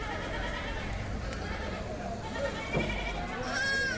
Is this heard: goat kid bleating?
yes